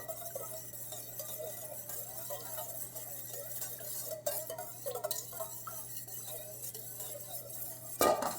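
Potatoes being mixed with about a tablespoon of olive oil, with soft scraping and clinking from a utensil against the bowl, steady and close, ending in a sharp clatter.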